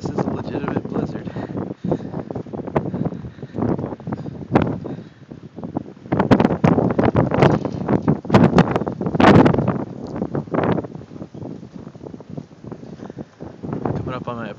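During a Chicago snow blizzard, gusty wind buffets the microphone with loud, uneven roaring bursts that swell and drop throughout, while someone talks over it.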